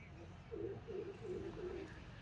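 A pigeon or dove coos softly on a misty morning over farm fields, four low, rhythmic coos in a row, faint and somewhat distant against a quiet rumble of background noise.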